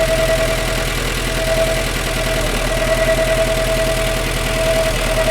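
A vehicle engine idling with a suspected carburetor fault, a loud steady mechanical drone with a constant tonal hum and rapid rhythmic pulsing throughout, close up with no talk.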